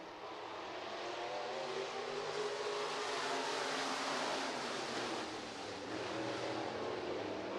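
IMCA Northern Sportmod race cars roar off together at the green flag of a heat race at Buena Vista Raceway, a dense, sustained engine drone that swells and holds, with no voices.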